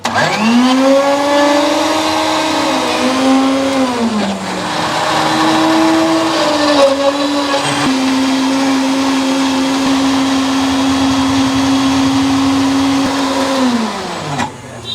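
An electric mixer jar whirs loudly while blending a milkshake, its motor pitch shifting and settling as the load changes, then winding down near the end; close, continuous, no talking.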